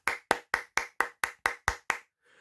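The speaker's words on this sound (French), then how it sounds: "Très clairement, je vous applaudis" One person claps nine times in a steady, even rhythm. The claps are sharp and close, and a faint murmur follows once they stop.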